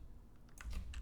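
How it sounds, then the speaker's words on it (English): Quick, faint clicking of keys on a computer keyboard, a short run of light taps that grows a little denser near the end, with no talking. "we're going to type that into there"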